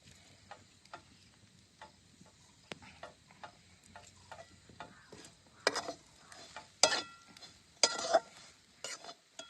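Green chillies tempering in hot oil for stuffed chillies: soft stirring clicks at first, then sharp crackling and spattering bursts that grow louder near the end.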